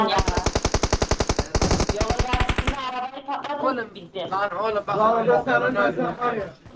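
Automatic gunfire from PUBG Mobile on the Erengel map rattles in rapid, loud, evenly spaced bursts for nearly three seconds, then gives way to players talking.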